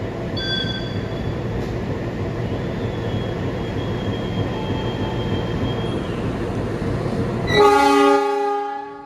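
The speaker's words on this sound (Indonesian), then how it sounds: "Kita berangkat kembali dari stasiun Kroya." Aboard the KA Lodaya economy train as it departs Kroya station in Indonesia, a continuous rumble of rolling wheels runs throughout, then a loud, sustained horn blast sounds near the end.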